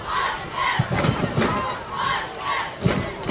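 A football crowd at Wasco roars and cheers in waves, loud and close, with scattered thumps, as a high school game against Shafter nears its end.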